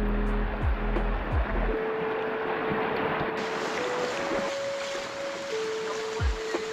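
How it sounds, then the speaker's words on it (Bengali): A strong current rushes through a rocky stream near Napittachora waterfall in Sitakunda. The water makes a steady, close hiss and wash, with gusty wind noise and a few faint tonal hums on top, and no one speaks. "দেখছেন এখানে কত বেশি ঢেউ, মানে স্রোত"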